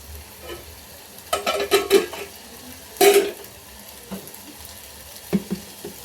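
Food roasting in oil over a fully lit gas flame, a low sizzle punctuated by bursts of clattering spatula scrapes against the pan, close and uneven, with no speech.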